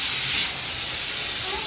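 Steam hisses steadily from a pressure cooker in a home kitchen, a continuous close broadband rush with a brief swell near the start.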